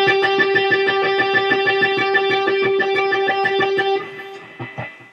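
Rapid, even tremolo picking on an electric guitar: a single sustained note struck many times per second for about four seconds, then a few quieter scattered notes.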